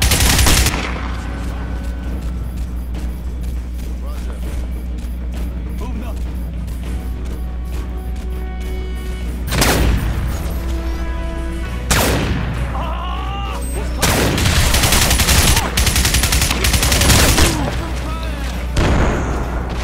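Heavy gunfire and explosive blasts in the video game Crysis, loud and dense, with several sharp bursts and booms over a constant rumbling game backdrop, someone talking at times.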